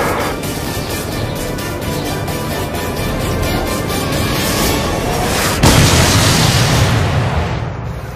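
A drone weapon strike hitting its target, heard as a loud, dense roar of noise that jumps into a heavier blast burst near the end, with no talk.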